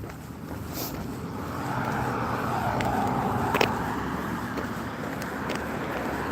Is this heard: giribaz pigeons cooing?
no